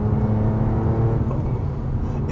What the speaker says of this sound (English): It's amazing how fast it revs when you go to blip it.